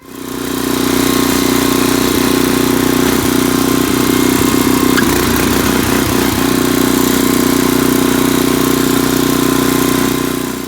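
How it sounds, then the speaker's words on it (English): A garden tiller's engine runs steadily and loudly close by while it churns soil, a constant droning hum with a brief rougher patch midway, and no voices. "All right, let's get that tiller."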